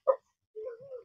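Dog giving a short yip followed by a drawn-out whine, close by and fairly quiet.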